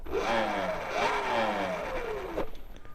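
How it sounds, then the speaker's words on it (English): Fresh drive belt on a Sur Ron electric motorbike whining loudly in a steady rising-and-falling tone as the bike rides along, alone with no talk, ending abruptly. "My belt's making a weird noise."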